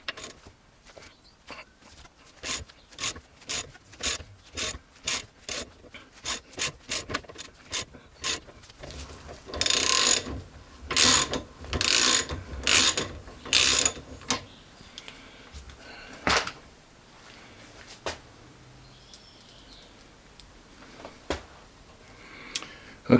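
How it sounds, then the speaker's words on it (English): A fast ratchet wrench works while injectors on a Cadillac are serviced, making a run of rapid, regular clicks that then break into louder irregular bursts and scattered single clicks, close up and with no talking. "let me go and get my fast ratchet"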